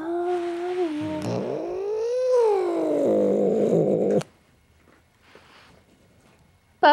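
A cat lets out long, wavering yowls and caterwauls, loud and close, rising and falling for about four seconds, then falls quiet before a brief sharp cry at the end.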